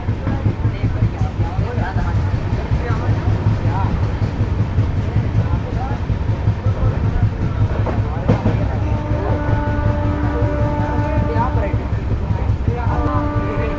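Nangal Dam Express 14505, a fast train, runs on the rails near Rupnagar station with a steady rumbling roar and rhythmic clatter, heard from inside. A voice talks over it, and faint tonal squeals rise toward the end.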